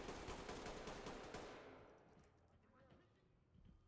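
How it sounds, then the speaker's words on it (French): Rapid gunfire bursts in the tactical shooter game Ready or Not, a dense, loud volley of shots lasting a second or two before fading into quieter room tone with a few faint later sounds. "Coup de feu, coup de feu."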